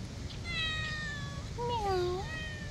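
A cat at Saigon Zoo lets out several rising and falling meows at close range, clear over a steady background hum, with a person's voice nearby.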